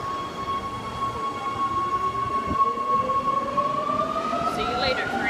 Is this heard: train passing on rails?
yes